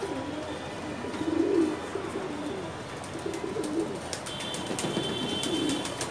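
Red Bombay pigeons coo at a busy pigeon market in Dhaka, soft low rolling coos rising and falling steadily over crowd murmur and scattered background noise.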